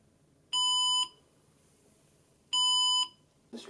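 A detection device's alarm beeps twice, each tone a loud, sharp, steady electronic beep lasting about half a second, separated by a quiet gap of about two seconds, followed by a brief rustle at the end.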